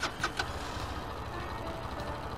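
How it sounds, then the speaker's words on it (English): A motorcycle engine starts with the clutch lever held in, settling into a steady mid-pitched idle that runs alone, close and continuous after a brief sputter at the start. "hold in the clutch to start the engine"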